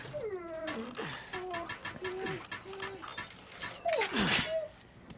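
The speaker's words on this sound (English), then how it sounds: "Aw, puppy." A puppy whimpers in Resident Evil 4, a string of high, sliding whines and yelps repeating through the stretch, fairly close, with a louder rising cry near the end over faint game ambience.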